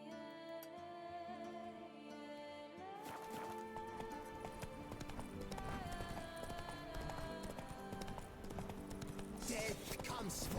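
Roach the horse's hooves clip-clop steadily in a video game over a dense bed of game music and ambience, the rhythmic footfalls moderately loud and partly masked throughout.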